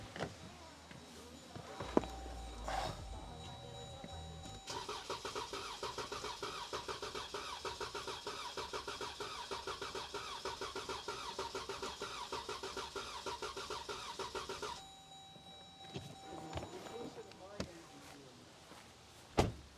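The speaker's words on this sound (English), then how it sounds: "want to listen to my engine doing that? All right, I'm going to try to start it now." A Jeep 3.6L V6 engine cranks with a fast rhythmic chugging for about ten seconds, then stops; soft clicks and handling noises come before and after.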